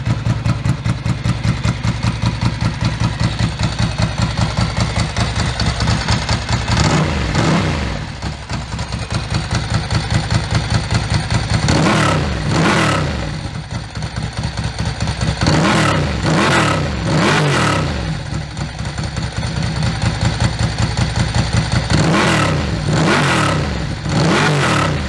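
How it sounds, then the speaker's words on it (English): A Ducati 851 S3 Monoposto motorcycle idles with a loud, close, pulsing beat, then takes several sharp throttle blips that rise quickly and drop back to idle. "Now ready for a couple of blips of the throttle."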